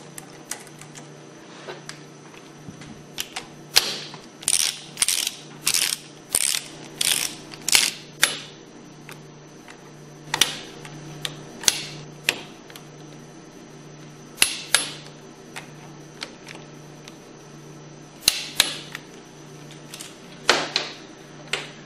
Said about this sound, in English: Tighten these hex bolts down in a crisscross pattern to approximately 15 foot-pounds.